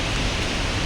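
Steady rain falls near Mallalli waterfall in the hills, a dense, even hiss close by with no pauses and no voices over it.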